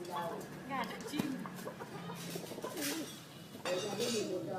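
A chicken and a bird scuffle, with clucks, sharp squawks and bird calls close by while people talk over the commotion.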